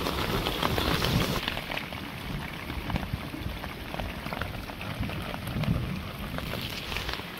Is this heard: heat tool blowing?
no